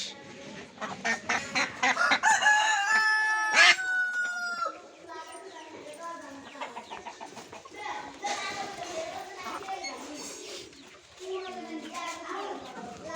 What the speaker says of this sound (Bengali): দেখছো মুরগি এই যে